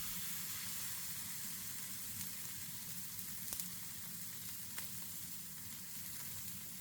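Steak sizzles in a preheated frying pan, a steady close crackling hiss with occasional sharper pops, with no talking over it.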